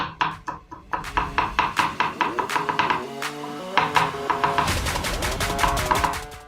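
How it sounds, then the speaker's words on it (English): A knife finely dicing garlic on a cutting board, giving rapid rhythmic chopping taps in quick bursts, close and crisp with a brief pause midway, no voices. "I find that garlic really goes well with potatoes, so I'm going to be finely dicing them"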